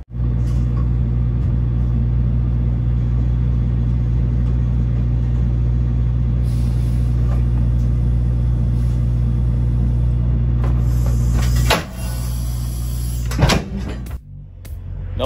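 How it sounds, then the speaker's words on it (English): A truck with an air release tandem trailer idles in a steady, loud low diesel rumble, then near the end gives a few sharp metallic clunks and pops as the tandems shift into place. "I'm actually going to have to back my trailer up to get it to pop back into place"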